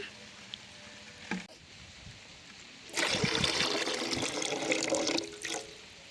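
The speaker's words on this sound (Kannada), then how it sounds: "ಹುಳಿ ಜಾಸ್ತಿ ಇರುತ್ತೆ ಸ್ವಲ್ಪ ನೀರು ಹಾಕೊಳ್ಳೋಣ" Water is poured into a pot of raw tamarind rasam with tamarind juice and tomato, making a steady, moderately loud splashing pour for about two and a half seconds after a quiet start.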